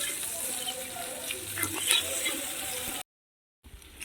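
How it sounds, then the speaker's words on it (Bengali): Garlic paste frying with browned onions in a pan, with a continuous close sizzle and occasional stirring scrapes, cutting out briefly to silence before the sizzle resumes. "রসুন বাটা দিয়ে দিচ্ছি দিয়ে রসুনটাকে মিল দিয়ে কষিয়ে নেবো"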